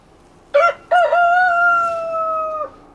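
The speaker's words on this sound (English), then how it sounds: "And Silver the rooster letting you know he's doing his job." A rooster named Silver crows in an early June flower garden: one loud, close cock-a-doodle-doo that starts with a couple of short rising notes and then holds a long, steady, ringing call for about two seconds before breaking off.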